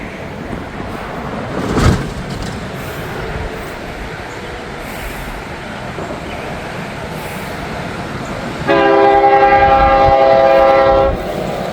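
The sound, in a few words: train passing, working hard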